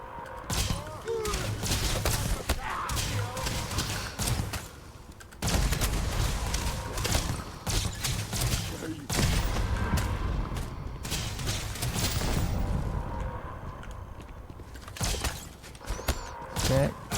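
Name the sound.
gunfire from the video game Starfield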